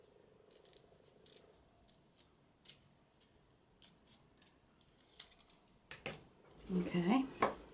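Scissors snip through paper while trimming a journal embellishment, a series of short, crisp cuts spread across the clip, fairly close, with a louder rustle and a brief voice near the end.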